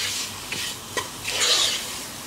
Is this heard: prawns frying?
yes